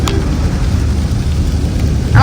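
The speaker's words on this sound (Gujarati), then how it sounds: "પણ બહુ પડે છે વરસાદ" Heavy rain pours down in a steady, loud, dense wash with a deep low rumble throughout, and a brief voice is heard near the end.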